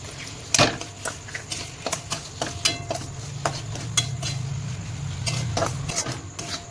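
Sugar, jaggery and sesame being stirred together in a pot: a series of scraping and clinking strokes in an uneven rhythm, close and fairly clear over a low background hum.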